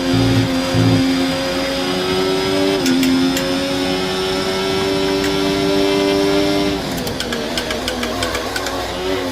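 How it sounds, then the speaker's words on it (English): An F1 car in a racing game, at the Spanish Grand Prix, with a loud high engine whine shifting pitch. Toward the end the tyres crunch and rattle through gravel. "that's a wheel in the gravel"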